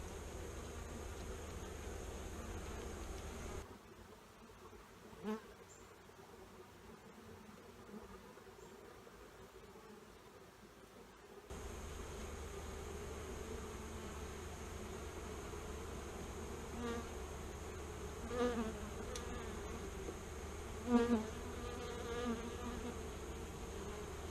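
Honeybees from a strong hive buzz steadily around the opened boxes, a continuous close drone with a few louder passes as single bees fly near, and a brief quieter stretch partway through.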